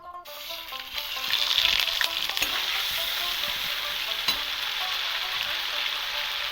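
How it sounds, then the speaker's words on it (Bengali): Black cumin seeds, green chilli and ginger paste hit hot oil with a loud, continuous crackling sizzle, punctuated by occasional sharp spatters and stirring clinks. "তেলের উপরে এখন কালো জিরে ফোড়ন দিয়ে দেবো তার উপরে কাঁচা লঙ্কা আর আদা বেটে রেখে দিয়েছি"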